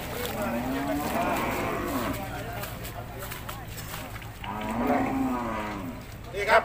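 Cattle at a cattle market in Sikhoraphum moo loudly twice, long drawn-out low calls close by, over crowd murmur and people talking in the background.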